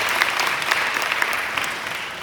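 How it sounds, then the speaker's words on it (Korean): Continuous applause from a church worship service audience follows the worship team's performance, a dense, even patter of clapping hands throughout the short stretch with no talk over it. "오늘 정말 은혜롭게 찬양하시는 우리 찬양팀 다시 한번 박수 한번 보내주시기 바랍니다"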